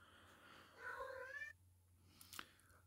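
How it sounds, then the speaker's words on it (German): A domestic tomcat gives one clear, drawn-out meow at moderate volume over a low, steady background hum, followed by silence and a brief click. "Mein Kater meldet sich jetzt gerade auch, möchte, dass ich fertig werde."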